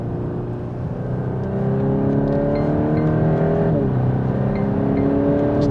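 A VW Golf R estate engine drones steadily from inside the cabin, with a quick rev blip on a downshift partway through before the engine note settles again, loud and close.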